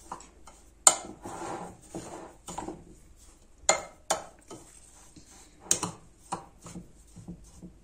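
Apple cake batter being stirred in a bowl, with a utensil scraping and clinking against the sides in irregular, faint strokes and a few sharper knocks close by, no talk.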